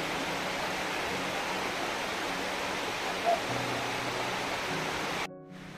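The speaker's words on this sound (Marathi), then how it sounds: "हा असा आपला तापण्याचा धबधबा आहे." A waterfall near the Chafnath temple at Chafavali gives a steady, even rush of falling water that fills the whole stretch at a moderate level before cutting out abruptly at the end.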